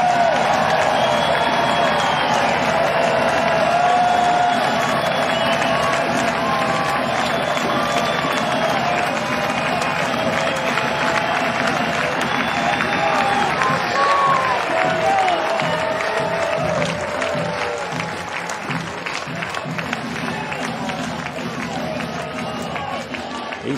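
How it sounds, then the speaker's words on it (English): A crowd at a 2019 NCAA Baseball Tournament game between Indiana State and Vanderbilt cheers and applauds as a batter looks for a third straight home run, loud and sustained, then easing off in the later part, with announcer talk over it. "Listen to the crowd."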